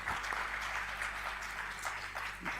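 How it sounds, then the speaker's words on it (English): Conference audience applauding startups, a quiet, distant wash of clapping that runs steadily through the short stretch with no one speaking over it. "don't you think these guys deserve a bigger round of applause?"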